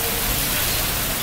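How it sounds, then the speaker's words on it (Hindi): Heavy monsoon rain pours steadily outside a bird breeding room, a loud, dense, unbroken hiss with no voices. "काफ़ी तेज़ बारिश है"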